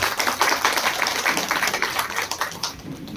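An audience at a ceremony honouring martyrs' families and ex-servicemen breaks into sustained applause, a dense wash of many hands clapping, loud and continuous, easing slightly toward the end.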